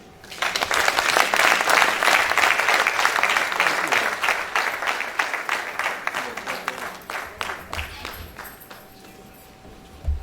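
A lecture audience applauds at the close of a professor's valedictory lecture, dense sustained clapping that builds quickly, holds for several seconds, then thins into scattered claps with a faint tone near the end.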